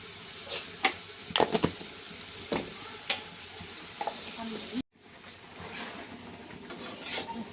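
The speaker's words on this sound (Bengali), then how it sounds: "কষাচ্ছি।" Potatoes with turmeric, salt and cumin paste sautéing in a pan, close sizzling broken by scraping stirs and clatters of a spatula, then a softer steady fry after a brief cut; a voice speaks at times.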